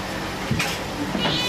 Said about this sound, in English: He's such a lovely cat.